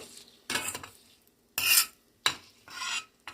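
A spoon stirs bay leaf, dried chilli, cardamom, cinnamon and mustard seeds in a pan, making four distinct close scraping strokes separated by short silences.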